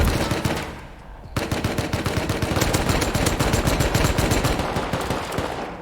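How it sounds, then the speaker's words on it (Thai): Gunfire in the game Rust comes loud and close: a short burst, a brief pause, then sustained rapid automatic fire lasting several seconds. "ผมยิงโดนไปหลายนัดมากนะ"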